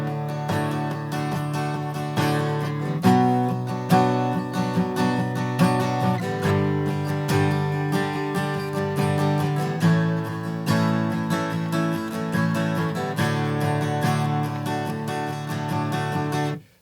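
An acoustic guitar strums the chords of a song in a steady, rhythmic pattern of down and up strokes, close and clear, with brief chord changes before ringing out at the end.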